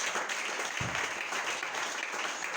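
A church congregation applauding to acclaim the Lord, with steady sustained clapping from many hands filling the space throughout.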